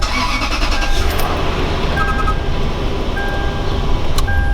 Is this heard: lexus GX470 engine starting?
yes